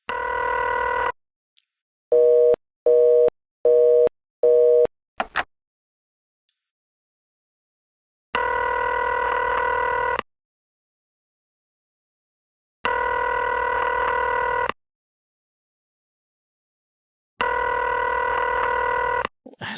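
A telephone dials a quick burst of touch-tone beeps, then a ringback tone repeats in long, evenly spaced pulses with silence between, loud and close, no one answering.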